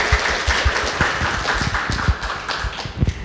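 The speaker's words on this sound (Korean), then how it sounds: "박수로 맞이해주세요" Audience applause greets a newspaper culture editor invited as a guest onto a book-talk stage, a dense spatter of hand claps at steady level with no talk over it.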